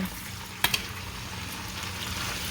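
Salt mackerel with seasoning sizzling in a pan as it cooks down, a steady low frying hiss throughout with two brief sharp clicks near the start, close and fairly quiet, no talking.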